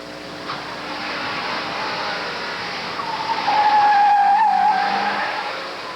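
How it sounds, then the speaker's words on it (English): A 1988 Alfa Romeo racing through an autocross course at a national solo event, its engine droning steadily before the tires break into a loud, sustained squeal midway, then the car fades off. "The Wayne driving his Alfa Romeo 1988."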